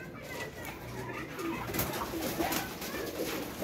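A pigeon coos softly and repeatedly against a continuous background of other birds and low rumbling noise, fairly faint and somewhat masked.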